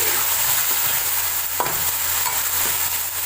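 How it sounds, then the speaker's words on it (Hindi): Boiled chickpeas frying in oil for a degi kabuli chana pulao, with a steady broadband sizzle and an occasional scrape of stirring, close and continuous with no talk. "अब इसमें चने ऐड कर दिए हमने। अब इसको हम फिर 5 मिनट के लिए फ्राई करेंगे।"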